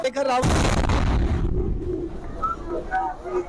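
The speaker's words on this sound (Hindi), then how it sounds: "ट्रैफिक स्लो है और ऐसे में जबरदस्त धमाका होता है।" A sudden loud blast bursts out in slow traffic near the Red Fort in Delhi after a brief moment, then a rumbling, noisy aftermath with scattered high cries and commotion.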